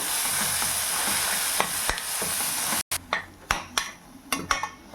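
Ground ginger paste frying in sesame oil with mustard seeds and asafoetida, a loud steady sizzle that cuts out abruptly, then repeated scraping stirs and clinks of a spoon on the pan.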